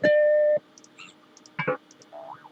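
An Amiga computer plays a boing sound effect through desktop speakers: a short electronic tone first, followed by faint clicks and a brief springy burst, then a soft warbling pitch toward the end, with no talking.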